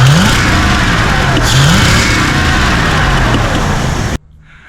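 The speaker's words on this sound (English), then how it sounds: "when I revved the engine" A carbureted engine revs close by, a loud broadband roar with rising pitch sweeps as the throttle is blipped. It holds strong for about four seconds, then cuts off abruptly when the throttle is released.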